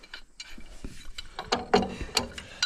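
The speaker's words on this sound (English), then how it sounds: "We're gonna put on the pipe wrench to get this one off." Metal ratcheting and clanking of a pipe wrench working a stuck bolt loose on a farm truck, a series of sharp close clicks and knocks that grow louder toward the end.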